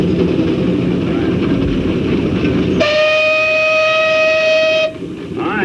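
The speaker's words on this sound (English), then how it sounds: "Case steam engine, 55 horsepower," A Case 55 horsepower steam traction engine runs at an early-day tractor and engine show, with a steady loud mechanical roar that gives way to a sustained multi-tone steam whistle blast lasting about two seconds.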